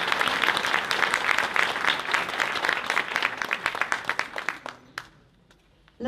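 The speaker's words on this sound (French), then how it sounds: "On peut les applaudir effectivement." Audience applauding the Larçay choir at an outdoor plaque inauguration in Azay-sur-Cher, a dense round of clapping that thins into scattered claps and fades out near the end.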